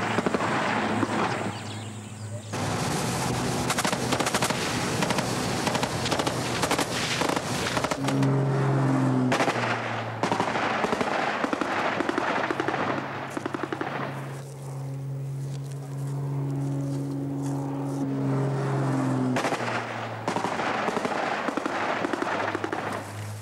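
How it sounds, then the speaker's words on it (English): Rapid crackling bursts of gunfire from an anti-poaching rhino rescue squad in Zimbabwe rattle on and off over a droning engine hum, with sharp clusters of pops separated by brief lulls. "random bursts of gunfire that may flush the poachers out of their hiding place"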